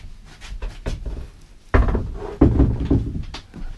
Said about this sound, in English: We're gonna pull up this trap door here.